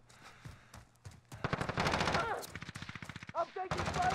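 Gunfire in Call of Duty: Modern Warfare multiplayer, scattered shots building into a rapid burst of automatic fire, fairly faint and mixed with game effects and brief voice sounds.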